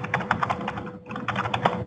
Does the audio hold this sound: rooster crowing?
no